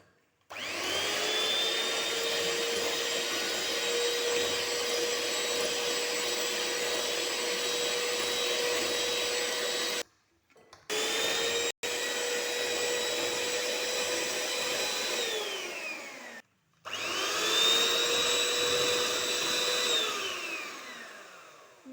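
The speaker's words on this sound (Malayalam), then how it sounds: "ഇനി നമുക്കിതൊന്ന് ബീറ്റ് ചെയ്യാം" An electric beater whirring steadily through a warm cake mixture, a loud close motor hum that runs long, cuts out briefly twice, then restarts and winds down.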